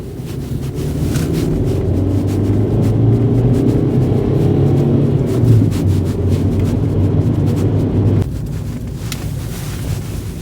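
An old van with a newly replaced exhaust driving along a rough, rickety back road, heard as a loud, steady engine and road rumble with wind buffeting, easing off toward the end.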